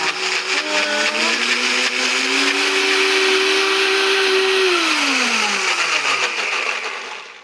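A blender purees strawberries into a smooth froyo base, starting low, then its motor whine climbs steadily through the speeds, holds loud and even, and winds back down near the end, with no voices.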